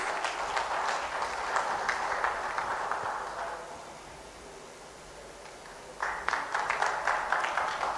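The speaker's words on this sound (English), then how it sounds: "A huge round of applause, please." Audience applause at a national corporate conference, as a memento is presented on the dais, with sustained clapping that fades in the middle and then swells again toward the end.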